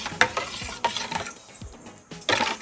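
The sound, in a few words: stirring soup stock with salt, pepper and sugar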